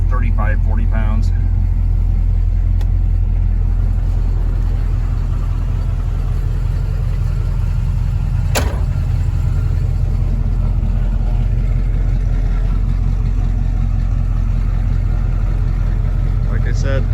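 A 1979 Pontiac Trans Am with the W72 engine and 4-speed runs steadily with a deep, loud low rumble that holds throughout, with one sharp blip partway through.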